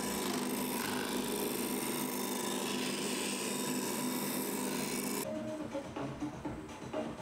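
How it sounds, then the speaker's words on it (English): A disc sander grinds against the corners of a plywood panel, a continuous loud abrasive rasp that drops away abruptly near the end, leaving quieter shop sounds. "I also rounded over the corners at the disc sander so that the panels would push right into the rebates on the frames."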